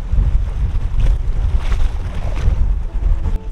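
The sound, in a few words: strong wind blowing on Gulf of Mexico shore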